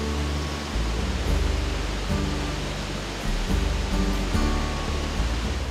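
Rushing water at the Capanda dam on the Kwanza river in Angola: a loud, steady roar of heavy flow, continuous and dense throughout with no voices.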